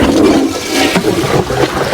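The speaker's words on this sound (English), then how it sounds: "I know we hear the sound of the outhouse flushing." An outhouse toilet flushes in an animated film, a loud steady rushing and gurgling of water lasting throughout, with a brief sharper splash near the middle and no talk.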